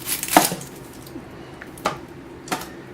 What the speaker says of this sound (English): cut the onion in half